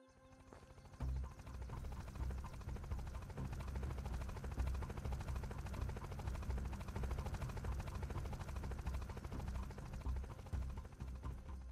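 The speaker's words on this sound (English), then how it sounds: "People roaming around with a helicopter." In the video game Unturned, a helicopter drones with a steady, rapid rotor thump that rises after a quiet start and holds at a moderate level throughout, sounding moderately distant.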